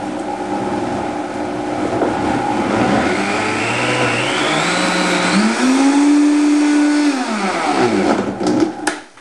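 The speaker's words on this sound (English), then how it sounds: "for the Vitamix is set on 1, and you want to slowly turn it up." A Vitamix blender starts at its lowest speed and whines steadily higher as the dial is turned up, a loud, close motor roar rising in pitch over several seconds before cutting back at the end.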